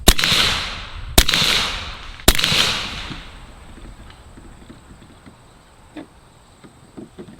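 A Bintac T50 PCP air rifle fires at a target: three sharp, loud cracks about a second apart, each trailing a brief ringing tail, followed by quiet with faint small ticks.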